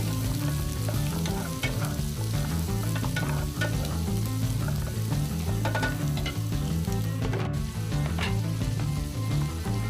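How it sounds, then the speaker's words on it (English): Vegetables with onions sautéing in oil and sesame oil in an electric skillet, a continuous loud, close sizzle with scattered crackles and light stirring scrapes, unbroken for the whole stretch and without talk. "And then we're going to go ahead and saute those vegetables."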